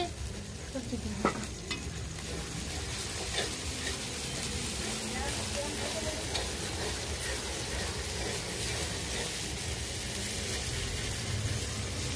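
Spices fry and are stirred for khichuri bhog, a steady close sizzle with scraping stirs throughout and a low hum beneath, no talk.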